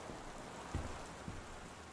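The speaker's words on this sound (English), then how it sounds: "Oh, it's raining outside." Steady rain falls outside a house's front patio in the game Gone Home, a dense, even hiss of drops with a couple of soft thuds, heard alone.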